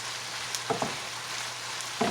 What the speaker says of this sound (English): I'm going to go ahead on and drop my tomato sauce in this